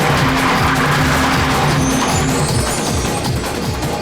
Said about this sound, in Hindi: तेज चलाना, तेज चला जल्दी